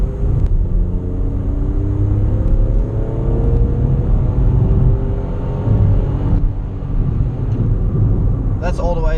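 A 2018 Volkswagen Up's small engine revs steadily upward to its 6,000 RPM redline with rising harmonic whine, loud and close, holding near the top before easing off.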